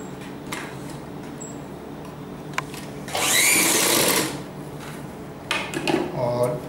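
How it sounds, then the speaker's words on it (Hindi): Sewing machine stitching a shirt seam, heard as short bursts of needle rattle, the loudest run in the middle and another near the end, close by and under quiet background sounds. "तो इसे भी नीचे की ओर से हम सिलाई करेंगे इसी तरह करेंगे"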